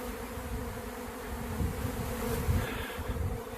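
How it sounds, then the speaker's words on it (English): A dense, steady buzzing of many killer bees swarming close by as they pour out of a box, droning continuously with a slight swell in loudness midway. "You guys can see all these bees pouring out of this box."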